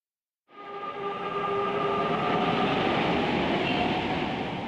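A train runs steadily in a scene from a Digimon Frontier drama CD. It fades in quickly, then holds as a continuous rumbling hum with faint tonal whine, with no voices over it.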